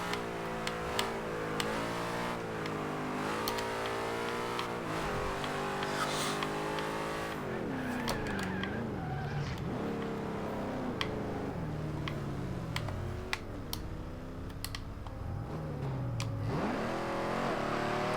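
A 1988 Chevrolet Monte Carlo SS in Forza Horizon 2 revs and pulls through repeated gear changes, its engine note rising and dropping in sweeping waves, loud and continuous, with occasional clicks.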